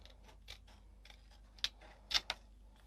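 Scissors fussy-cut card in a few quiet, crisp snips, spaced irregularly with short pauses between them, close and alone without talk.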